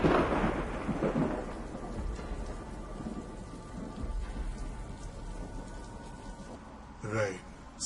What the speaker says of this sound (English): The rain spatters upon the windscreen relentlessly.